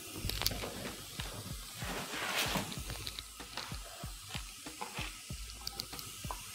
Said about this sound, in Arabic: علشان اسيب اللحمة تنزل ميتها وتبتدي تستوي فيها